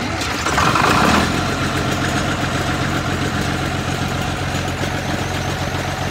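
A John Deere 6030 tractor's diesel engine, plugged in overnight before a cold start, turns over and settles into a loud, steady, rumbling idle with a knocking pulse, close by and without talk.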